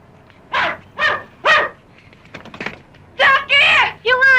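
A small dog barks repeatedly at close range, three yaps, a pause with clicking, then a quicker run of higher yelps.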